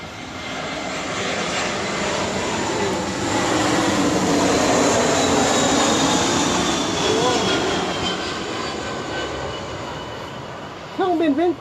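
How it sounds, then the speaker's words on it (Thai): Airplane flying low overhead near an airport, a loud sustained roaring engine drone that swells and fades over about ten seconds, with a brief voice right at the end. "เสียงเครื่องบิน"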